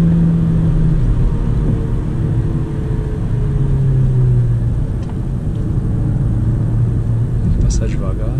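Inside a manual Honda Civic G8 on a highway, a steady engine drone and road rumble rise and fall slightly as the car accelerates, with a brief clatter near the end.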